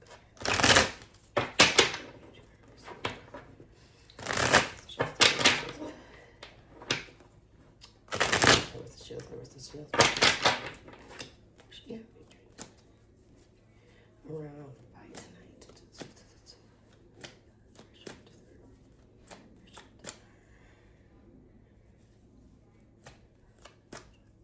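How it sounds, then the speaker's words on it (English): A deck of tarot cards is shuffled close up in several sharp riffling bursts, each a quick crisp flutter, followed by quieter soft card handling and taps. "So I just want to shuffle the cards."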